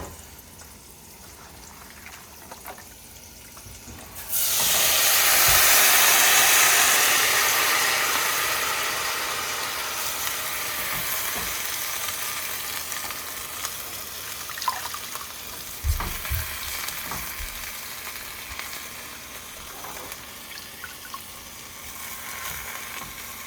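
Cooked-down cabbage browning in a hot pan for a vegan meal, a loud sizzle bursting in suddenly and then settling into a steady, slowly fading fry with occasional crackles and clinks, no talking.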